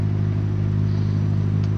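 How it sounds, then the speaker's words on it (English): F1-style go-kart engines revving in the video game Dirt Rally 2.0 on a rallycross course, a steady, loud, buzzing engine drone holding one pitch, close and continuous, with no talking. "you can kind of already hear them revving up. These things rev really hot, just like an F1."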